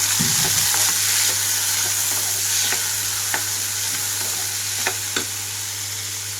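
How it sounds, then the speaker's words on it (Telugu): Onions fry in a pan as cooked black-eyed peas are stirred in: a steady hiss of sizzling oil with occasional scraping clicks from the spoon, close by and free of talk. "ఇప్పుడు ఇందులోకి ఉడికించుకున్న బొబ్బర్లు మొత్తం వేసేసుకుంటున్నాను"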